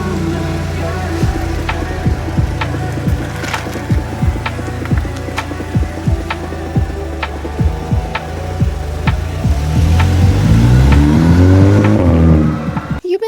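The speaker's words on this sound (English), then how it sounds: "So I'm gonna hop in the car with my nice new splitter on." A Volkswagen Scirocco fitted with a new front splitter driving along, engine humming steadily with repeated sharp clicks or thumps, the revs rising near the end.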